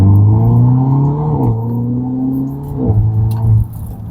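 A 2017 Mercedes-Benz SLC300 accelerating hard in Sport Plus mode with its 9-speed gearbox, the loud engine note climbing steadily, then dropping at two quick upshifts before rising again, heard from inside with no talking.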